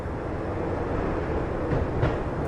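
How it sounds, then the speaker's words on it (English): Rumbling train carriage noise in the Max Payne video game as the train slows down, a steady loud low roar with faint rhythmic clatter and no talking. "When the train he was riding slowed down, Gogniti made his move."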